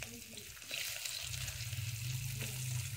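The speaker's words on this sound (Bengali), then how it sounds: "কালো জিরেটা গরম হয়ে গেছে, এবার এতে একটু পরিমাণে পেঁয়াজ দেব" Onion drops into a hot pan of black cumin seeds and sizzles with a steady, fairly quiet frying hiss that rises after a soft clatter and carries on evenly.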